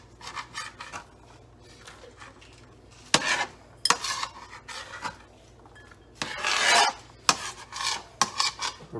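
Ingredients for a homemade Big Mac replica being tipped and scraped into a bowl, giving scattered clattering and rubbing bursts against a low steady hum, with no talk.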